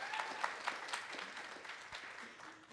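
Sparse, scattered clapping from a small audience at a rehab hospital wellness event, faint and uneven, tapering off toward the end.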